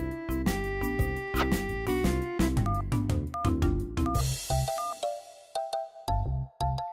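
A bright electronic ringtone melody of rapid stepped tones, repeating in short phrases, loud and close with no voices.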